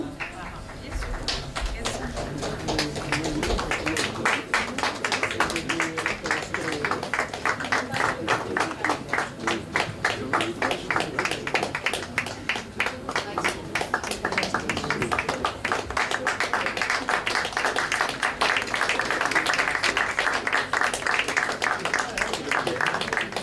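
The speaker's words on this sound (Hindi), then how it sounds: "धन्यवाद आपकी जोरदार तालियों के लिए।" An audience at a World Hindi Day 2025 event claps at length in a fast, rhythmic beat, loud and steady throughout, with some voices mixed in.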